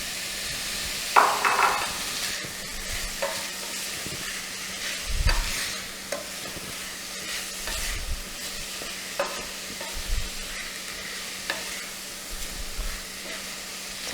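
Herbs and vegetables sizzling and frying in a pot for creamy tortellini soup, with occasional stirring clatters over a steady soft hiss; no talking.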